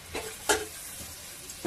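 Soybean chunks hit a hot pan for chow mein, raising a steady sizzle broken by a few brief scrapes and bursts of stirring, close and without voices.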